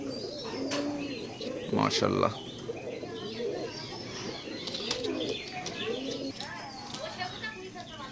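Oman blood line teddy pigeons cooing and flapping their wings nearby, with soft coos and a burst of wingbeats, while a person speaks briefly over them.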